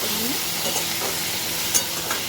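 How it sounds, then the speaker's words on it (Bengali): Prawns frying in a pan for a home-cooked Bengali mustard-poppy dish with spiny gourd and potato, giving a steady close sizzle and hiss with a faint stir or two. "চিংড়ি মাছটা এরকম করে ভাজলে কি হয়"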